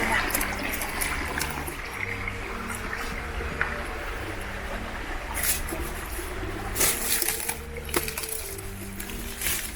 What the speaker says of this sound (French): On a suivi le cours d'eau